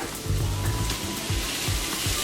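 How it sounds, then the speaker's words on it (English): Onion, celery and chicken stir-frying in a pan, a steady close hiss and sizzle with soft stirring scrapes underneath. "This is almost like a stir fry."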